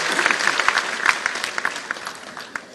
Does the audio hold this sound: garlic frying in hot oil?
no